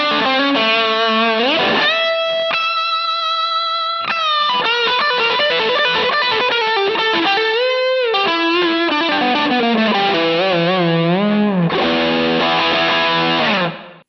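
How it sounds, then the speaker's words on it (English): An electric guitar plays a run of distorted notes and chords through a BK Butler tube drive model on a Harley Benton DNAfx GiT Pro. The tone is loud, saturated and sustained, with no talking over it. "This is the BK Butler tube drive."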